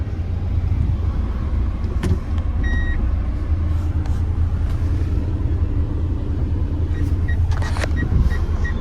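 A three-wheeler auto rickshaw ride through Surat traffic gives a constant loud engine and road rumble, with short beeps and horn toots from nearby vehicles cutting in.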